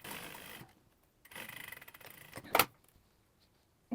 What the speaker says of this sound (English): So a 1 centimeter or 3/8 inch, back stitching on the corners